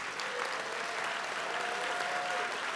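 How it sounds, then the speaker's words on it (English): A crowd claps for the graduates at a college graduation ceremony, a continuous, even wash of applause sustained throughout without any speech. "One more round of applause for all graduates."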